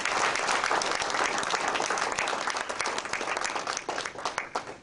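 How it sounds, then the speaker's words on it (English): A room full of people at a Toastmasters club meeting applauds with dense, continuous clapping that gradually thins out and fades toward the end. "I would like you to give another round of applause to all those speakers."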